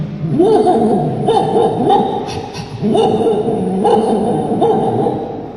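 At a school arts festival mimicry contest, someone imitates a dog with a series of short barks and yips in uneven bursts, close and fairly loud.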